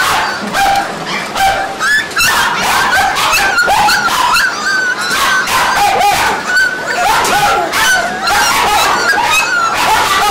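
Many dogs barking and yipping nonstop in wire-bottom cages at a puppy mill, a loud, dense overlapping chorus with whines mixed in.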